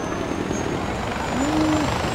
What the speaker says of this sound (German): Wir holen uns den Heli.